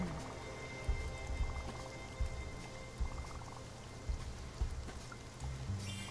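Rain falling in the Spiritfarer video game, a steady soft patter and wash with occasional heavier drops and light thumps, under a quiet ambient bed.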